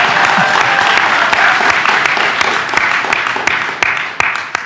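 An audience at a general election hustings in Surrey Heath claps, a loud dense burst of applause with sharp individual claps that thins toward the end.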